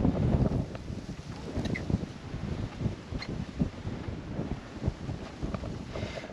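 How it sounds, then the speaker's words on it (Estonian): Strong seaside wind in Porvoo, Finland buffets the microphone in loud, uneven gusts and rumbles throughout, with no speech. "Kus juures tuul on mega kõva."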